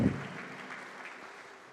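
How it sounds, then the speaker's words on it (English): Conference audience applause, a steady wash of many hands clapping that fades gradually over under two seconds, heard from within the hall. "Please clap for yourself if we were able to get all these chief guests today."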